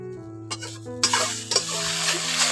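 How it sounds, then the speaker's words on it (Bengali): Banana blossom mixture with roasted garam masala and Kashmiri red chilli powder is stirred and sizzling in a hot pan, a continuous frying hiss with a few scraping strokes and no voices. "এই দুটো উপকরণ দিয়ে এখন ভালো করে মিশিয়ে নিচ্ছি"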